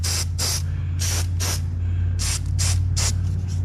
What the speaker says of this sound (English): Now we're going to spray some rust treatment on.